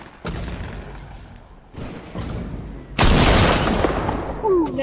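Gunshots in a video game: three separate sharp, loud blasts at irregular intervals, each followed by a rumbling decay, close and prominent.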